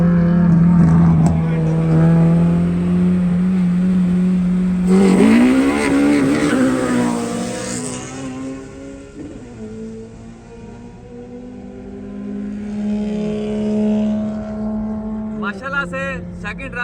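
A race car engine in Pakistan drones and whines through a race, revving up sharply partway through and then settling into a loud sustained tone that climbs again near the end.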